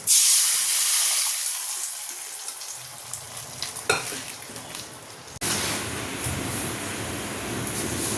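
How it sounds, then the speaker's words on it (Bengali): Arhar dal tipped into hot ghee tempered with chillies and asafoetida. A steady frying hiss erupts into a loud, dense sizzle partway through, then stays strong and continuous to the end, with no voices. "মশলাটা ভাজা হয়ে গেছে, এবার"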